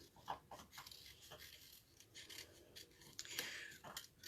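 Scissors snip through paper, trimming closely around printed wording while making a Christmas gift; a series of crisp, close cuts and light paper rustles come in irregular bursts with no talking.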